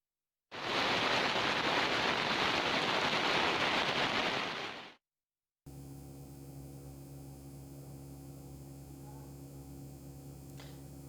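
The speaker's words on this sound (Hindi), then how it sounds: "रमेश, तेज बारिश और कड़ाके की सर्दी के बीच में किसानों का आंदोलन लगातार जारी है" Heavy rain pours down in a steady, loud broadband hiss for about four seconds during a farmers' winter protest camp at the Chilla border, then cuts out to a quieter background of low mains-like hum and distant ambience.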